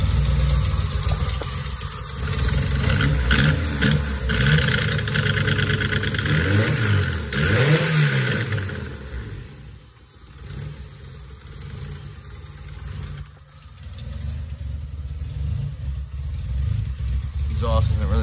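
A K24-swapped Acura RSX with an aftermarket race header and a cheap, loosely fitted exhaust idles and revs close by, its rough engine note rising and falling in bursts while someone talks over it.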